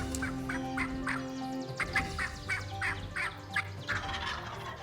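Wild turkeys gobble in repeated bursts, several rattling calls in a row, fairly close and loud over a low background hum with no talking.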